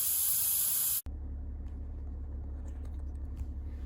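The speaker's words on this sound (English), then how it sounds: "Okay, I'm going to turn the air compressor back on." An air compressor runs with a steady low rumble and hiss while filling a trailer tire, preceded by a brief loud spray of air that cuts off abruptly after the first second.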